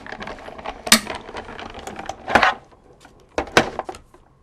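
A die-cutting machine presses card stacked with cutting plates, giving three separate loud, brief clunks and rattles with quieter mechanical handling noise between them.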